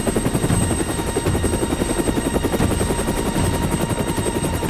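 A helicopter hovers as a film sound effect, its steady, loud rotor chop and engine whine filling the whole stretch without a break and with no voices.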